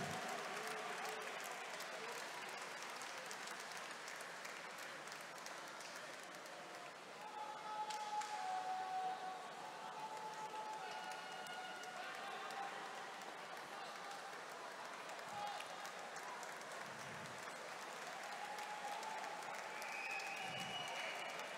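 Sustained applause from a crowd greets medal-winning athletes at a sports podium ceremony, steady and fairly distant, running unbroken for over twenty seconds with a slight swell partway through.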